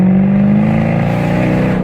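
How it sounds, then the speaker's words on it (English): Jaguar F-Type in third gear, tuned for crackle, gives a loud, close engine blip with a steady revving drone and burbling exhaust crackle throughout, no talk over it. "Give her another little blip into the activation area."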